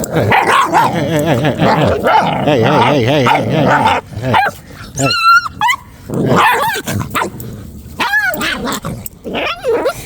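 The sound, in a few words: dog barking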